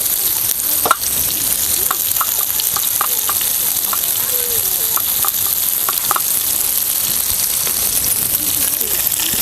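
Fish for a crispy fish fry sizzles loudly and steadily in oil close by, with scattered clicks and taps of a utensil as the pieces are turned over.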